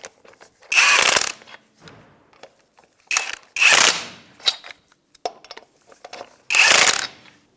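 A ratchet snugs locking lug nuts in a star pattern on a 1992-1996 Ford F-150 wheel. Several loud, close bursts of rapid clicking are separated by short pauses, with no voices.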